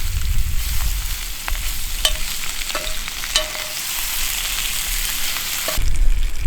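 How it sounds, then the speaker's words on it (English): Loud, steady sizzling of food frying in a little oil in a pan outdoors in a forest campsite, with a few clinks and scraping sounds of stirring. "Still sizzling."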